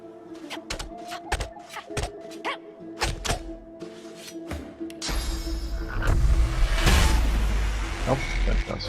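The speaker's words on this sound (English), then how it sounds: "let's just destroy this chest one." Weapon blows striking a chest in Divinity: Original Sin 2, a series of sharp, separate thuds and cracks in a quick rhythm, followed by a louder, denser stretch of clattering impacts near the end.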